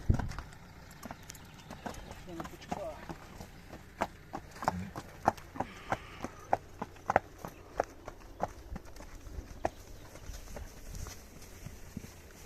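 Belgian draft horses move along with steady, distinct hoof clip-clops, moderately near, while people talk intermittently over rustling ground noise.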